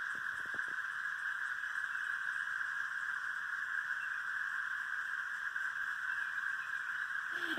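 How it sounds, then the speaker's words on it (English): Cicadas in Missouri fill the air with a steady, loud, continuous buzzing drone that holds unbroken from start to end, with no voices over it. "the sound of cicadas."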